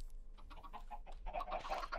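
Chickens in the Minecraft video game cluck in short, quiet bursts that grow busier and louder toward the end.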